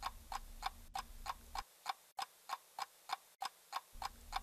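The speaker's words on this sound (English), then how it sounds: "On the other hand, a clock ticking." A clock ticking: steady, evenly spaced sharp ticks, about two per second, close and faint, alone with a soft background hum that cuts in and out.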